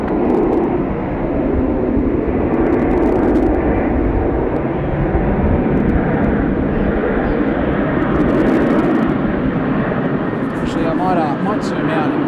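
An airliner descends to land at Sydney Airport, a loud continuous engine roar that swells and holds, with someone talking over it near the end.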